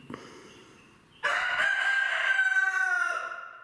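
A rooster crows loudly and close, one long drawn-out call that swells and holds before trailing off, after a brief quieter noise.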